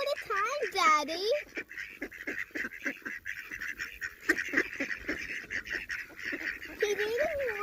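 Birds at Mt Parakahi Reserve in Northland, New Zealand give repeated honking, quacking calls, loud and close, mixed with children's and adults' chatter throughout.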